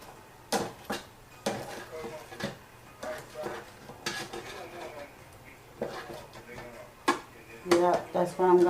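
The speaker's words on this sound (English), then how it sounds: "I'm gonna give them a turn and let them cook on the other side" Lemon pepper honey chicken wings are flipped in a pan, giving scattered metallic clinks, taps and scrapes of utensil on cookware at close range, mixed with a soft sizzle and talking.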